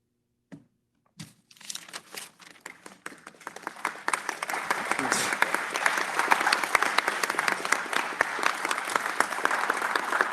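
Colleagues applaud at a congressional foreign affairs hearing: a few isolated claps, then the clapping builds into steady, dense applause that carries on to the end, with no talk over it.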